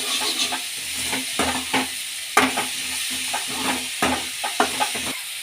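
Finely chopped onions sizzling in a pan as they are stirred, with a steady loud frying hiss and a rhythmic series of scraping strokes and knocks from the spoon, close up.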